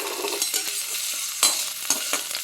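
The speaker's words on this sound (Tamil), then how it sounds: "கடாயை வச்சுட்டு பச்சை மிளகாய், பூண்டு, புளி பாருங்கள் வதக்குறேன் பாருங்கள்." Green chillies, garlic and tamarind sauté in a kadai, giving a bright, close sizzle with a few sharp stirring scrapes and clinks against the pan.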